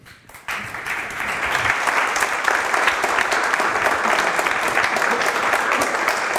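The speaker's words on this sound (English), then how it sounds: "I will ask you for applause for our speakers" Sustained audience applause for the speakers at a talk and book launch on creating welcoming places, starting abruptly after a brief quiet moment and holding steady and loud throughout.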